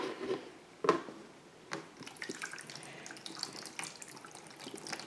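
Water is poured off boilies being heat treated for carp fishing, giving close, splashing pours and trickles with a sharp splash early on and quieter dribbles after.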